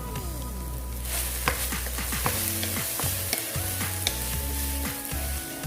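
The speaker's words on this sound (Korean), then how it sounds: "이렇게 모든 채소들을 넣고 약 2-3분간 수분이 증발할 때까지 볶아주신 후에" Vegetables with red chilli stir-fried in a pan for homemade chilli tuna, a steady close sizzle broken by repeated scraping and clacking of a spatula against the pan, with low background tones underneath.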